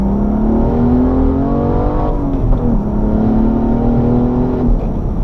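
A BMW M235i running on E85 fuel accelerates hard, its engine note climbing steadily in pitch with a brief dip as it shifts, then rising again; loud and close, with no talking.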